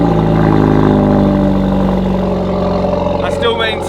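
Hyundai i30N four-cylinder engine with a Scorpion exhaust, loud and close, holding a steady deep idle-like drone with strong low harmonics before easing off near the end.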